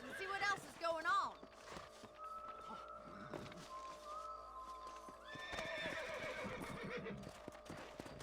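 Horses in the video game Red Dead Redemption neigh and whinny loudly near the start, followed by clip-clopping hooves and game sounds, with voices talking over them.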